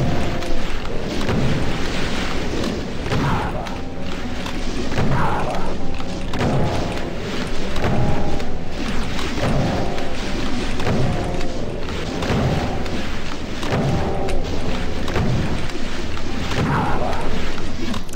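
Rocket explosions in DOOM II boom again and again amid loud, dense game noise, with repeated heavy blasts running throughout and a voice talking faintly in the mix.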